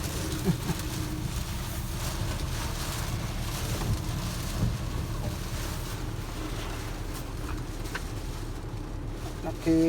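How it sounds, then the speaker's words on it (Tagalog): Constant heavy wind roars with a dense wash of rain beating on surfaces near a river, a low rumbling bed throughout and no clear speech. "nakisilong kasi malakas yung ulan"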